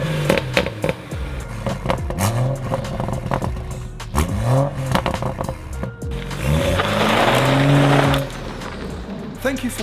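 A BMW M135i, a car that had been wrecked and then fitted with carbon parts, revs and drives in rising and falling pulls, with crackles between shifts, close and fairly loud, and a voice talks over parts of it.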